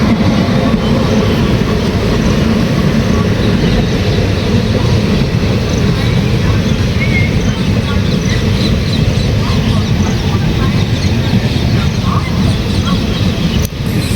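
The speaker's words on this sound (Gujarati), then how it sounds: "બીજી ટ્રેન આવી ગઈ જો" A train rumbles steadily past on the rails, loud and continuous throughout, with a dense low roar and clattering wheel noise.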